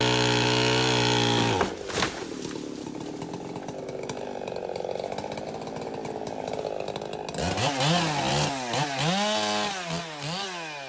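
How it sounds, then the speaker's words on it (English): A wood chip grinder, just repaired with a new planetary hub and feed wheel, runs loud and close with a rough mechanical roar that rises and falls in pitch as it labors and revs. "Now we're gonna put it back together and I'm gonna grind"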